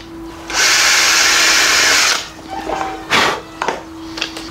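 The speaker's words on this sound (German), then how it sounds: "dann können wir es hinterher immer noch größer bohren" A power drill whirs loudly and steadily for about a second and a half while boring a small hole, then stops, followed by a few quieter clicks and handling noises.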